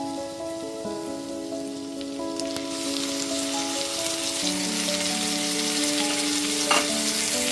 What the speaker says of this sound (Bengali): তারপর দিয়ে দিচ্ছি 2টো মিডিয়াম সাইজের পেঁয়াজ বাটা।